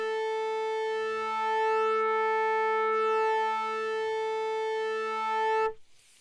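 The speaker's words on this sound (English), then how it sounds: "It almost sounds like I put a phaser on the sound." A steady FM synth tone with real-time phase shifting between operators, its bright harmonics slowly sweeping in a phaser-like swirl, sustained and alone before cutting off abruptly.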